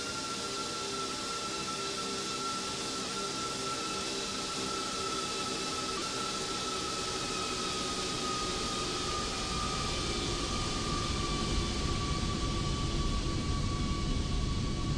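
An MD-11 airliner in the X-Plane flight simulator passes in a slow flyby, a steady, dense jet roar with a high whining engine tone that holds level throughout and swells slightly toward the end.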